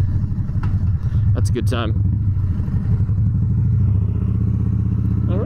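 A 2016 Harley-Davidson Dyna Street Bob V-twin rumbles steadily at riding speed, loud and close with a deep throb and wind buffeting, while someone speaks briefly over it.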